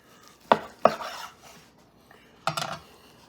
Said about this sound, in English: so we're gonna go ahead and just cut this